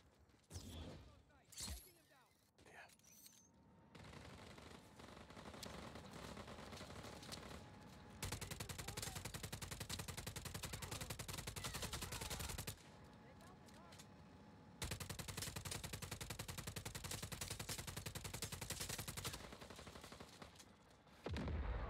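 Rapid bursts of gunfire in the video game Just Cause 4 rattle in long sustained volleys with brief gaps, mixed with explosions and a voice talking in between.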